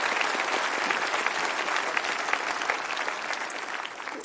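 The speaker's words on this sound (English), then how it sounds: "Can we give them another round of applause?" A graduation crowd gives another round of applause for five scholarship and award recipients: dense, even clapping from many hands that fills the room for several seconds, then fades slightly at the end.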